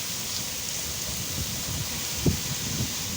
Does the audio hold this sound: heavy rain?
yes